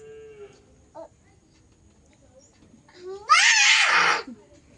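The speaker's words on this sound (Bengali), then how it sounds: "গরু এরকম ভাবে ডাকছে" A cow lets out one loud, close moo lasting about a second near the end, preceded by quiet background sounds and a brief faint vocal bit.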